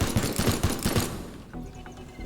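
Rapid gunfire from a video game shooter, a burst of loud repeated shots over about a second that then drops to quieter game ambience with a few faint clicks.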